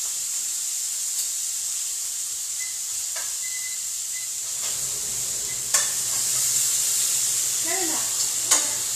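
Beef chunks browning in a hot pan for boeuf bourguignon give a steady, bright sizzle throughout, broken by a few soft scrapes and taps of a utensil near the end.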